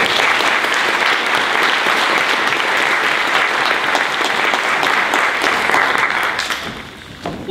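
Staff at a meeting applaud a list of honorees, a dense, steady round of clapping from a sizable room that carries on strongly for several seconds before fading near the end.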